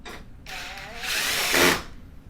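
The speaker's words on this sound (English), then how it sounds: "Hold the back valve as you screw this screw in." A power drill drives a screw into the water inlet valve of an LG washer. It gives a short, close whirring run that rises in pitch and loudness toward the end before cutting off, with no talking.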